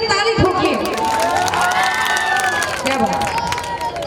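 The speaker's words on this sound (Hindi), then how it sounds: "जरा एक बार इनके लिए ताली ठोकिए" An audience at a jagran event applauds guests, with loud, sustained clapping and cheering from a crowd while a voice carries over the top.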